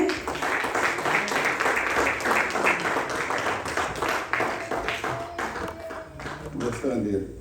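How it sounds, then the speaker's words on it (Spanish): Congregation applause in a church, a steady round of rhythmic clapping from many hands lasting several seconds, with a voice speaking over it. "Denle un aplauso al Señor."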